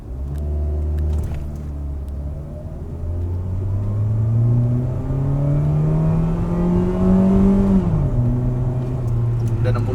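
A Mitsubishi Xpander accelerates on a test drive from inside the cabin, its engine note climbing steadily in pitch through a gear, dropping sharply at a shift, then settling into a steady, loud hum.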